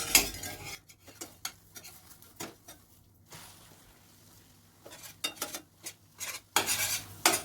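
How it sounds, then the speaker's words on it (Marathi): A utensil cuts cooked egg into small pieces in a pan over low heat, giving scattered sharp taps and scrapes against the metal, close by with quiet gaps between strokes. "असे तुकडे करून घ्यायचे मध्ये बारीक बारीक."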